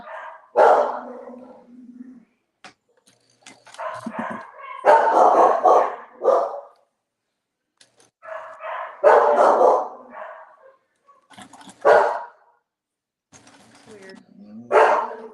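A dog barks repeatedly in irregular bursts, some sharp and loud, others softer yips and whimpers, close by with quiet gaps between.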